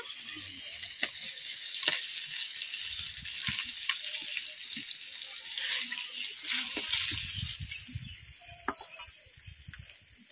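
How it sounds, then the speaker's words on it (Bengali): Tengra fish frying in a pan of hot oil, a steady bright sizzle with crackling spits throughout, close and continuous with no talking. "বাকি মাছগুলো সব ভেজে নেব।"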